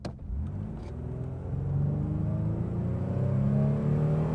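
A 1988 Pontiac Firebird with a V6 of roughly 135 to 140 horsepower accelerates hard in a straight line, its engine note swelling into a loud, rising drone that holds steady and close throughout, with no talking.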